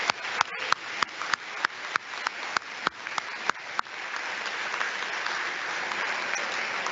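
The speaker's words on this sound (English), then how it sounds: "let's give a round of applause for the class of 2022" Audience at a school fall sports awards night applauds the class of 2022: a run of sharp, evenly spaced claps up front gives way to a full, sustained wash of crowd clapping.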